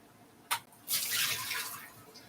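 Water splashes and swishes as something is rinsed around in a sink, a brief splash followed by a sustained, fairly close run of sloshing.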